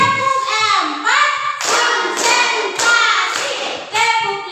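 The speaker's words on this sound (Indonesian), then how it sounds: "Tepuk 1. Tepuk 2. Tepuk 3. Tepuk 4." A class in an Indonesian madrasah lesson claps in counted sets, with bursts of sharp hand claps alternating with children's voices chanting the counts in rhythm.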